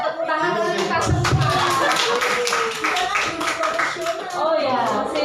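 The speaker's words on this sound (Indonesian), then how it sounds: "Tepuk tangan dulu kita semua" A group of teachers at a school training session claps hands together in a steady burst of applause, fairly close, with voices talking and laughing over the clapping throughout.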